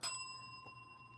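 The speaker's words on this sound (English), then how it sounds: "Oh, look, a bell." A bell rings with one bright, clear strike that leaves a long sustained tone slowly fading, with a faint second tap partway through; no talking.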